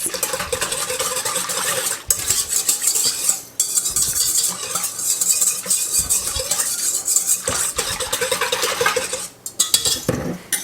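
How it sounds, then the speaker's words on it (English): Sugar and yeast whisked together in a bowl for apple cinnamon rolls, a busy, loud scraping and rattling of the whisk against the bowl with brief pauses between bursts. "I'm gonna whisk those together, just like this."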